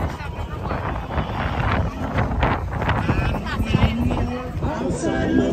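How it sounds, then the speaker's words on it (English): Strong wind buffets the microphone outdoors at a runDisney half marathon start corral, a constant loud rumbling roar with gusty fluctuations and no clear speech over it. "It is very, very, very windy."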